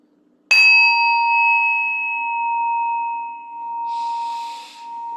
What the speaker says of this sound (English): You'll hear 3 chimes